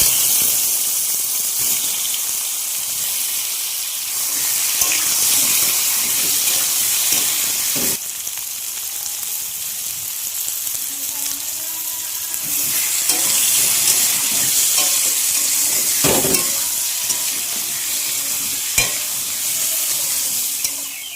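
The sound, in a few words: potatoes frying in a pan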